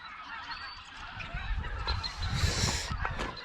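Snow geese honk while flying overhead on a dairy farm, a loud, overlapping flock chorus of nasal calls that swells toward the end.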